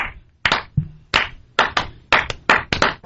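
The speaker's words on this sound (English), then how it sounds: "He gets the slow clap." A single person gives a slow clap, about ten sharp, separate hand claps in an uneven, deliberate rhythm, close and clear with silence between most strikes.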